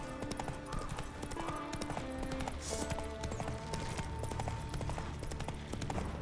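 Rhythmic clip-clop of the horse Roach's hooves galloping in The Witcher 3 video game, a steady beat running through the whole stretch under game music and ambience.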